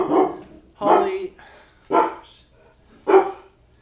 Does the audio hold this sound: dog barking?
yes